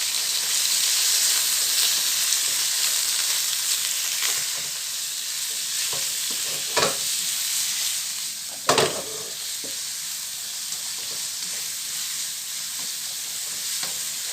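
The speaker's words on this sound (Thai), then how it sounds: "ใส่หอมหัวใหญ่ หอมหัวใหญ่กับไส้กรอกลงไปด้วย" Onion and sausage stir-frying in a hot pan, a steady close sizzle and hiss with a couple of sharp scrapes of the utensil against the pan, no voices.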